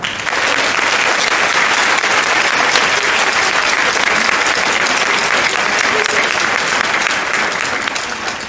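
Loud, sustained applause from a large audience at a parish's 50th anniversary celebration, a dense steady clatter of clapping hands that holds evenly throughout.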